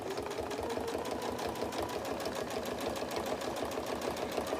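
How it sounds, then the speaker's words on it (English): A sewing machine top-stitches around the edge of a quilt, its needle chattering in a fast, even mechanical rhythm that runs steadily and close up for the whole stretch, with no voices. "now I'm going to top stitch it around the edge"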